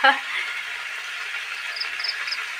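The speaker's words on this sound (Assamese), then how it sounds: "মই মাংস লৰাই ভাজি আছোঁ" Goat meat being stirred and fried in a pan gives off a steady, moderately loud sizzling hiss that runs throughout, with a brief clatter at the very start.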